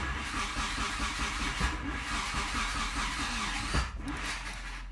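A DSM 4g63 engine fitted in a Mini Cooper cranks and sputters as it tries to start, a rough steady churning with a short stumble near the end, fairly faint and free of talk.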